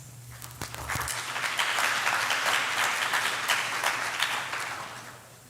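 Audience applause at a high school senior community awards ceremony in a hall, a dense wash of clapping that swells after a few scattered claps, holds steady, then fades.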